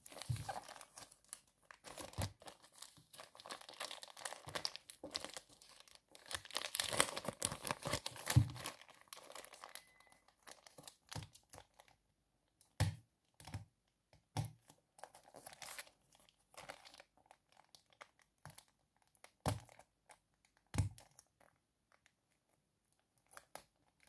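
A mail package holding a set of five plasters is opened up close: a steady stretch of plastic crinkling and tearing, followed by sparse crisp rustles and snaps.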